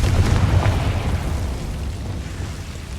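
Fire spell explosion from Hogwarts Legacy, a broad rumbling boom that hits loud at the start and slowly fades over a few seconds, with no talk over it.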